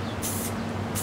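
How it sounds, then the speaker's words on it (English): Bursts of Flame Orange acrylic spray paint hissing from an aerosol can, two short sprays close by over a steady low hum, with no talking. "a lot of the zinc yellows tend to do this when you first spray them"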